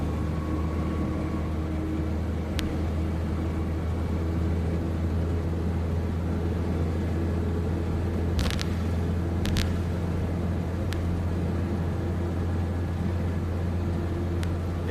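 Steady low engine drone from a blue Toyota LiteAce truck cruising down the road, heard from inside the cab with a constant rumble throughout and a few faint brief clicks, no talking.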